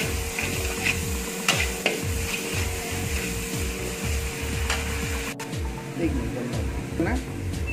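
Tomatoes go into a pan of frying spices for a crispy samosa filling, raising a steady close sizzle with repeated scraping stirs and rhythmic clattering of the spoon throughout.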